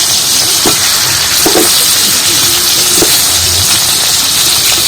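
Cauliflower pieces frying in a pan give a loud, dense, continuous sizzle close by, with a few soft knocks and scrapes as the pieces are moved, and no talking.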